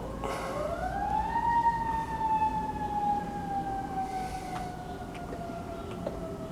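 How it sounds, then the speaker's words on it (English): A fire engine siren wails outside, a single rising tone that climbs and then slowly glides downward, moderately distant and steady over a low background hum. "I hear a fire engine outside."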